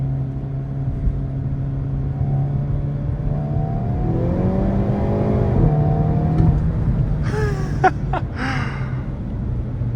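A Hyundai Kona N engine holds a steady hum, then swells into a rising rev as the car accelerates hard with its front tires spinning. Quick tonal chirps and squeals follow near the end, heard from inside the cabin.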